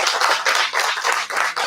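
Audience applause for a song at a short-film festival event, a steady dense wash of many hands clapping throughout, loud and close with slight swells.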